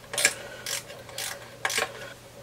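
A screwdriver works at short, corroded screws on an HP 8672A 18GHz signal generator, giving four brief creaking, grinding turns in an uneven rhythm over a faint steady hum.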